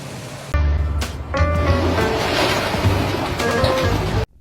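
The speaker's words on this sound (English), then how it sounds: "Got a little river going down in the lower part." A small river rushes steadily in the lower part of a riverbed, a broad wash of flowing water heard close, with a few brief knocks and wind buffets on the microphone.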